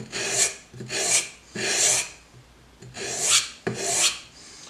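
A karambit knife is stroked against sandpaper in five loud, rasping passes, each about half a second long with short pauses between them, all close to the listener.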